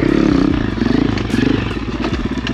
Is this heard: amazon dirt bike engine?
yes